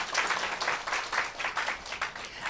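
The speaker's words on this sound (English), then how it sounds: "Can we get a round of applause for our leaders?" An audience applauds its leaders at a business talk, with steady, dense clapping that swells in waves and stays moderately loud throughout, no voices over it.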